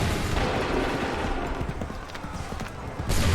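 A musket volley fired by massed troops in an Assassin's Creed 3 battle, heard as a dense, crackling burst of gunfire over continuous loud battle noise, with raised voices mixed in.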